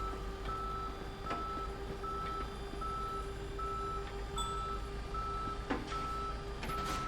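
A tow truck reverses during a night traffic stop in a police patrol simulator game, its electronic beeps sounding as steady tones over a constant low engine hum.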